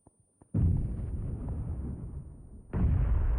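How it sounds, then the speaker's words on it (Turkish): Grenade blasts in the battle royale game PUBG Mobile, with a few small clicks, then a heavy booming explosion that rumbles and fades, followed by a second loud blast. "Flash atıyor bomba atıyor. Yemin ediyorum adam şu an ne bulursa atıyor bana."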